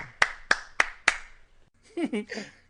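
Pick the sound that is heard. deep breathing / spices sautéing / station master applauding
station master applauding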